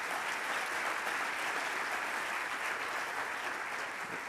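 Steady applause from a large audience at a mayors' conference opening plenary session, a dense, even wash of clapping heard throughout at moderate volume.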